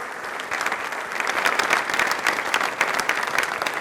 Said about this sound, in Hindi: तो इस थॉट के लिए एक बार तालियां प्लीज़ जोरदार वाली हो जाएं।